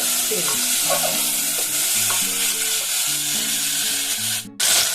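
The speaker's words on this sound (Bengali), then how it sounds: "এগুলো এখন বেশ সুন্দর করে একটুখানি পাঁচ মিনিট মতো ভেজে নিন" Spice paste and tomatoes frying in a pan for chana curry, a steady loud sizzle running throughout with music playing over it and a brief dropout near the end.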